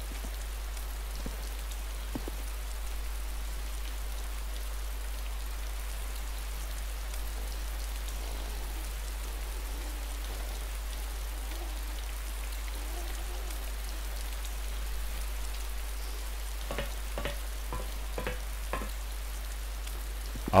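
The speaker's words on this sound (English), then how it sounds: "Here comes the rain again" Steady rain falls in the DayZ video game, a constant soft hiss of drops on surfaces running throughout, with a few sharp clicks near the end and a low hum underneath.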